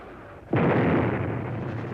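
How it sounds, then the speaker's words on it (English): Vietnam War bombing explosion: a sudden, loud, close blast erupts about midway and settles into a sustained rumbling roar that fades only slightly, with no voices present. "And it gradually escalates bombing of the North."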